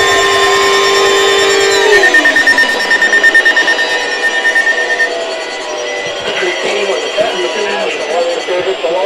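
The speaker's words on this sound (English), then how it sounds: "Alarm tone." An emergency alert system test on a weather radio sounds a loud, steady alarm tone for about two seconds. It then breaks into wavering, pulsing tones that fade slightly toward the end.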